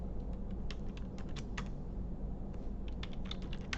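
Typing a chat message on a computer keyboard, with quick irregular key clicks in short bursts over a steady low background hum, fairly close and with no talking.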